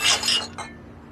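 Glasses clink together in a toast, two bright close ringing taps in quick succession that fade into a short faint decay.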